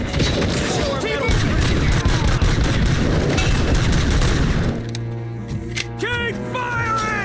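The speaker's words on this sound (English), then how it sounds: "Keep firing!" Continuous gunfire in the video game RoboCop Rogue City, loud and dense through most of the clip. Shouted voices break in over the shooting, which then thins toward the end.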